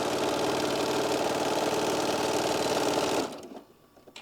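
A sewing machine stitches a drawstring, a fast steady mechanical whir running loud for about three seconds before stopping abruptly and leaving faint rattles.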